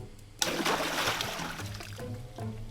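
Water sloshed by hand in a Tupperware tub partly filled near the top, as a Foley effect: a sudden splash then continued sloshing and dribbling that fades, close and alone.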